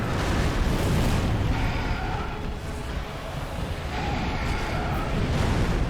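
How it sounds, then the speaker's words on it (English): A huge fiery explosion from the Demon Prince boss in Dark Souls 3 roars as a loud, dense rumble that fills the whole stretch, with a deep sustained boom easing slightly mid-way before swelling again. "you see that big fire explosion"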